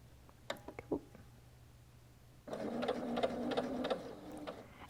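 A sewing machine stitches the seam of a quilted mitered-frame napkin. A few soft clicks come first, then the machine runs in a steady, fairly quiet whir for the last couple of seconds, alone and close up.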